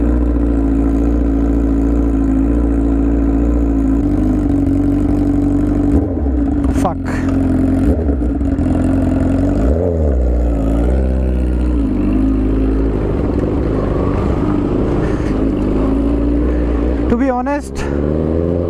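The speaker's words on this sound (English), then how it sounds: "Let the engine of his bike warm up a little bit" A Honda CBR1000RR Repsol Edition sportbike engine warming up, a loud, close, steady idle with several quick throttle blips, and talk intermittently over it.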